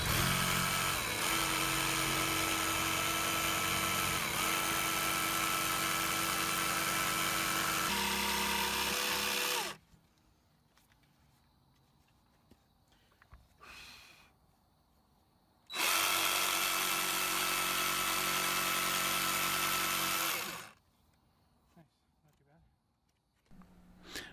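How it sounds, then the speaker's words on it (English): A jigsaw saws through cedar fence gate wood in two loud, sustained bursts of harsh buzzing, each roughly five to ten seconds long and broken by a quiet stretch with faint handling noise. "And a jigsaw is about the best tool for this operation."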